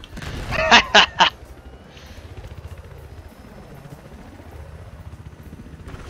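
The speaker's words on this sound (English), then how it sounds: "I got eyes on an enemy helicopter." An enemy helicopter in the video game Battlefield 4 thrums with a low, steady rotor chop, preceded by a few sharp bursts of gunfire early on.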